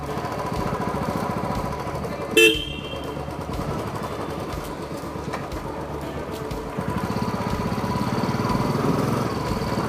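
A Royal Enfield Classic 350 motorcycle rides on an open road, its engine giving a steady, continuous thrum mixed with road and wind noise, with one brief sharp knock partway through.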